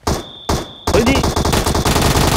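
Bursts of automatic gunfire in PUBG, a battle-royale shooter game, rattle loudly in rapid strings, with a short pause before a longer sustained volley; a high tone hums in the background early on.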